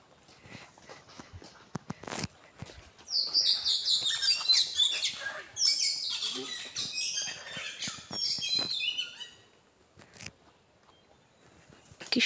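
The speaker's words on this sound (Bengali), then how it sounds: "কি সুন্দর পাখির আওয়াজ।" Small birds chirp and twitter in bursts along a mountain road by the Mayavati Advaita Ashrama in Uttarakhand, with a dense flurry of bright calls through the middle, fairly close, amid footstep-like rustles and no talk.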